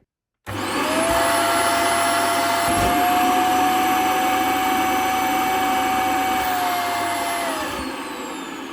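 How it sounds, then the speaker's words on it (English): Dyson DC24 All Floors upright vacuum cleaner with a small 650-watt motor running during a water lift test, a loud steady whine with a sustained tone that slightly shifts pitch, close up and continuous throughout. "What I'm now going to do is test the water lift on this thing, because it has a small motor rated at 650 watts."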